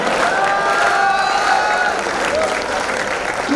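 An audience at a Hindi kavi sammelan poetry recital breaks into sustained applause with scattered cheers and whoops, the clapping dense and steady before easing slightly toward the end.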